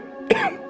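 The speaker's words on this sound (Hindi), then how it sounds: "ये खांसने की आवाज" A single short, throaty cough bursts out close by from a Naruto Shippuden anime episode, rough and quick, then fades.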